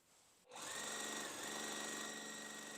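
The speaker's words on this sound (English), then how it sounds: "So now I'm going to sew this way" A sewing machine stitches a Pressed Flowers quilt block. Its motor starts abruptly after a quiet moment and then whirs at a steady, loud and close pace until the end.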